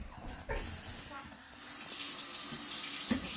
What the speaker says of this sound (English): you're going to have to wash your hands again